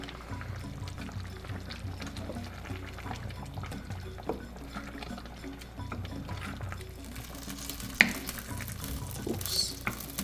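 Okra soup with smoked fish stirred in a pot over medium heat: soft continuous sizzling and wet stirring scrapes, with an occasional clink of the utensil against the pot.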